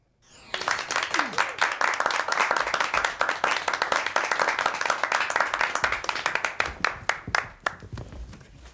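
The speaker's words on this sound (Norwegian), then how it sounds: "Nei, vi må ha mer mennesker til å klappe." A group of people clapping hands, a dense burst of close applause that starts abruptly, holds steady, then thins into scattered individual claps before stopping.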